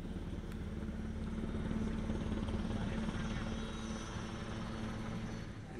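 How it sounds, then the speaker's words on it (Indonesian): Waterbombing helicopter flying over a burning landfill, a steady loud rotor and engine drone with a low tonal hum that holds for the whole stretch, no break in it. "Helikopter waterbombing telah mengguyurkan air sebanyak lebih dari 20 drum."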